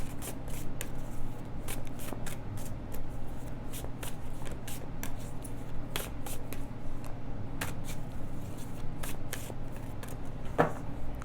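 Tarot cards being shuffled repeatedly, a steady riffling with crisp flicks and taps at irregular intervals, close up and with no talking.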